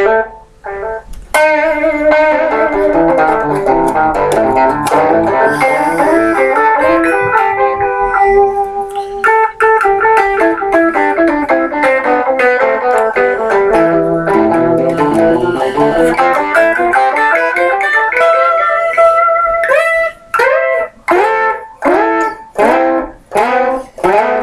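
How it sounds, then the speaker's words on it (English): Electric guitar played through a D'Lay echo pedal set to a long delay time, with melodic lines that repeat and cascade in trailing echoes, loud and sustained, then ending in choppy, rhythmic repeats. "I'm going to turn the echo all the way up now in terms of time."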